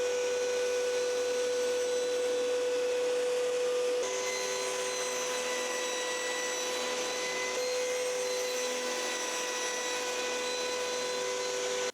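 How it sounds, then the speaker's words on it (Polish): A circular saw with its blade tilted to 45 degrees runs steadily while cutting a groove in wood, giving a continuous loud whining drone with fixed tones that shift slightly in pitch partway through, with no voices. "Przestawiamy piłę i wycinamy rowek mniej więcej na środku."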